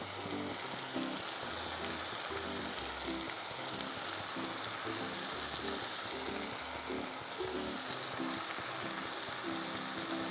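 Cooked rice being stirred into green peas and mushroom fried rice in a pan, a soft continuous sizzle with repeated scraping and tossing sounds of a spatula, no speech.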